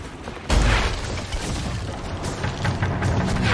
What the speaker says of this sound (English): The fort is shooting at them as well.